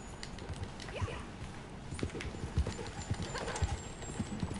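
Hooves clip-clop in an uneven rhythm at close range in the video game Red Dead Online, with a short horse neigh mixed in; no one speaks.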